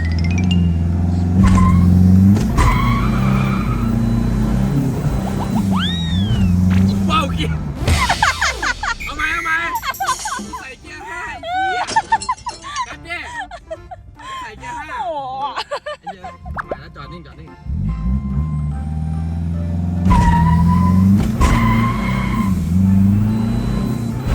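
A tuned van's engine idles, then roars as it launches with squealing tires and rising revs before settling back to a steady rumble, with voices at times.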